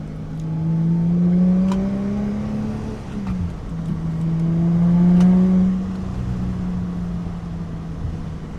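A Subaru Liberty 3.0R with its EZ30 flat-six boxer engine and six-speed STI gearbox accelerates hard twice, the engine note climbing through revs, dropping at a shift, then climbing again before easing off, loud and close.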